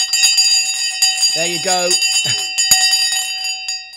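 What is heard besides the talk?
bell rung to open the stock market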